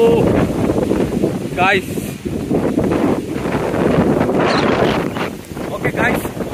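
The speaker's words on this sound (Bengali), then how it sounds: "ও বাতাস" Strong storm wind buffets the microphone in loud, roaring gusts outdoors during a rainy squall, while someone talks excitedly over the rushing noise.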